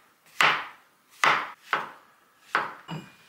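Knife chopping vegetables on a board for a vegan Korean dish at home: four sharp, evenly spaced chops with a fifth softer one, close up, with no voices.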